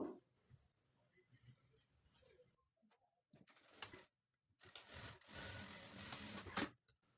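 Sewing machine stitching neck piping on a blouse, heard as bursts of close, rattling machine running that build to a longer, louder run near the end, with quiet background sounds in between.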